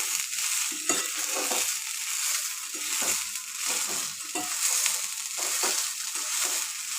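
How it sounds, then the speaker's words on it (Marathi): Corn kernels stripped from home-grown cobs roast in oil and salt in a pan, a dense continuous crackle and hiss with scattered sharper pops, steady and close throughout. "माझ्या मळ्यातून आणलेलं मकाचे कणस त्याचे मी सोलून मका काढले. ते आता तेल टाकून अशी भाजते."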